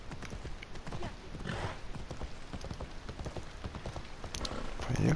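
Rhythmic hoofbeats of a horse galloping in the video game Assassin's Creed Odyssey on PS4 Pro, a quick steady clip-clop with faint rain-like texture, fairly quiet and heard alone.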